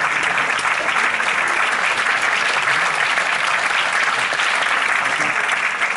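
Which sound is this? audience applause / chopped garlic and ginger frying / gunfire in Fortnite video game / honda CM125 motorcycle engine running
audience applause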